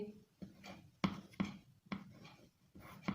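Chalk or marker tapping and scratching on a classroom board during a maths lesson, in short bursts with brief pauses between strokes, fairly close and moderately loud.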